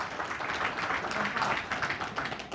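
Applause from a crowd attending a religious lecture: steady, dense clapping at moderate distance, continuous throughout with a faint murmur of voices mixed in.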